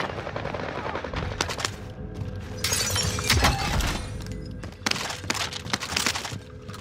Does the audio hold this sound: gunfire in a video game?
yes